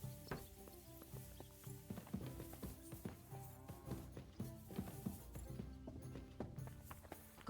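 Rhythmic hoof clip-clop of a horse walking at a steady pace in the video game Kingdom Come Deliverance 2, fairly close, over a soft musical background with no talking.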